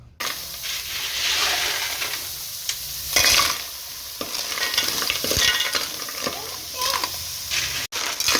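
Masala being stirred and fried in a pan for a Kerala-style clam dish, a continuous hiss and sizzle broken by scraping stirring strokes, close and fairly loud, with a voice talking intermittently.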